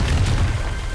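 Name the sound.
Confringo spell blast exploding in Hogwarts Legacy video game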